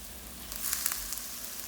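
Shrimp fried rice frying in a hot pan: a steady, close sizzle with a brief surge of crackling in the middle, and no voices.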